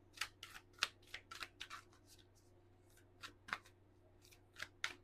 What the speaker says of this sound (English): I'm going to get a Moonology manifestation card for you, Cancer.